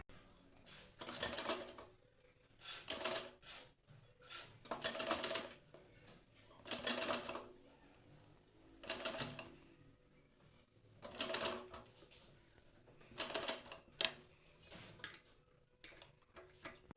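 A sewing machine stitching fabric for a girl's flared frock runs in repeated short bursts about two seconds apart, each a clattering rapid stitch run separated by quiet pauses, close and without speech.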